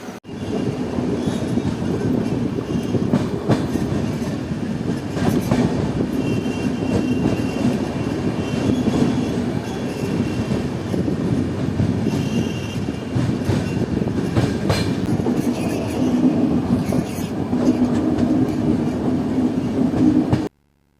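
Running noise of the Uttarbanga Express heard from inside a general coach, a steady loud rumble with rhythmic clickety-clack of wheels over rail joints lasting throughout, with no talking.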